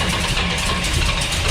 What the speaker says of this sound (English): Go ahead, crank it.